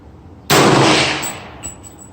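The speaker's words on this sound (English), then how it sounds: "here goes the third shot with the GMX at 100" A single sharp 300 Blackout rifle shot fired with GMX ammunition at a 100-yard range, an abrupt loud crack followed by a decaying echo and a faint metallic ring.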